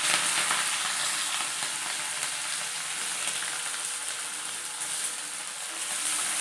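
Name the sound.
onion, tomato and green chilli frying in oil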